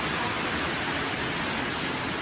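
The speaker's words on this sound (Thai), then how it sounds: "เออนี่จะเสียงฝนเลย" Steady rain falls outdoors as a dense, continuous hiss, loud and unbroken across the whole stretch, with no voices over it.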